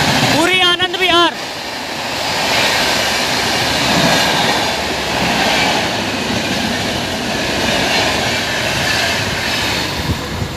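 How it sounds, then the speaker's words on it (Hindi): Purushottam Express passenger train departing Fatehpur, with steady rumbling and wheels clattering on the rails throughout. A brief voice rises near the start, and the train noise continues loud and close. "और बाकी हमारी ट्रेन का फतेहपुर से डिपार्चर"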